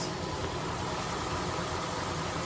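An AMC Jeep engine idles with a steady, even rumble and hiss, held close and constant with no clear rev rise, and no voices over it.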